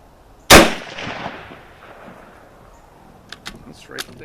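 A single loud, sharp rifle shot from a Kar98k Mauser sporter firing a Hornady 170 grain round-nose load rings out at an outdoor range, followed by a decaying echo and a few faint clicks.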